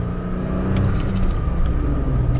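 A 2021 Toyota Tacoma TRD Off-Road pickup engine rumbles steadily and builds as it picks up speed, heard from inside the cab with road noise throughout.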